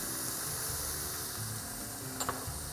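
Spices and vegetables cooking in a pan give a steady, soft sizzle, close and even, with a faint utensil clink near the end.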